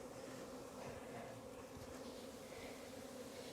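Honeybee swarm buzzing continuously, a dense, even hum with no breaks, steady and quiet with no one speaking.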